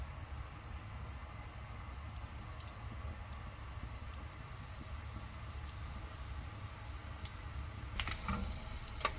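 Cumin, mustard seeds, chana dal and urad dal fry in oil with a faint, soft, steady sizzle, and a cluster of sharper crackles and pops breaks out near the end.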